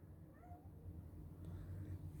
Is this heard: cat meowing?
yes